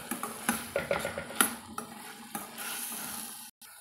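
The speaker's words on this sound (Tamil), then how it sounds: "நம்ம சேர்த்து நல்லா கலந்து விட்டுறலாங்க" A spoon clinks and scrapes against a pan while stirring black chickpea masala sundal, with quick repeated strokes up close, then a softer steady scraping toward the end.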